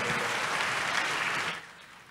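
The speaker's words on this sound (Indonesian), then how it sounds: "Tepuk tangan yang paling meriah buat Tuhan." A church youth revival congregation breaks into loud, dense applause that fills the room, then tapers off quickly near the end.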